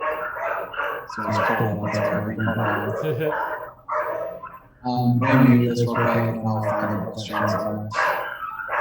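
Dogs bark in the background of a home video call, partly masked by someone talking steadily over them at close range.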